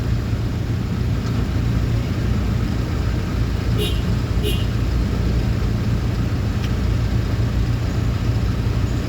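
Road traffic in Baliwag heard from inside a vehicle on the way to Pampanga: a steady low engine and road rumble fills the clip, with faint passing sounds on top and no clear talk.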